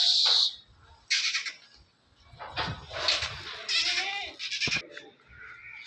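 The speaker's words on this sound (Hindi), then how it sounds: "पहले नंबर ते कितना प्यारा बकरा है भाई साहब" A breeder goat bleats several times in a row, close and fairly loud, the calls broken by short gaps and faint background noise.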